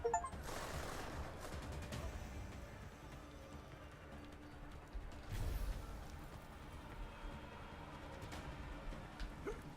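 Gunfire in the video game Deus Ex: Mankind Divided comes as scattered bursts and sustained rattling shots throughout, with mechanical clanks and creaks, at moderate distance.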